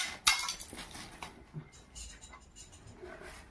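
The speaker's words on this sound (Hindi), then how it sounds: "एटा हला फ्राई पैन" A frying pan handled while being unboxed from an Amazon parcel, brief metallic knocks and rustling with one sharp clank near the start, close by, with a voice talking over it.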